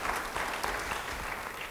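Church congregation claps together in a brief, dense, even burst of applause, filling the whole moment with no voices standing out.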